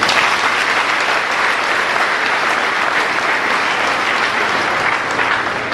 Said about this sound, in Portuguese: Vamos saudar as nossas crianças com uma salva de palmas.